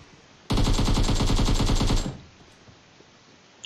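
A single sustained burst of automatic gunfire in the battle royale game PUBG, loud and close, a rapid even stream of shots lasting about a second and a half before cutting off to quiet background.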